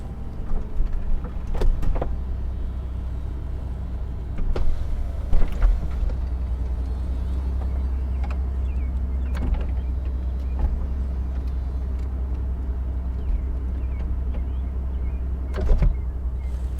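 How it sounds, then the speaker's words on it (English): The power convertible top of a 2008 Mercedes-Benz SL600 retracts with a steady electric motor hum over a low engine idle, punctuated by several mechanical clunks and latch clicks as the roof folds away. "Go ahead and demonstrate the power convertible top."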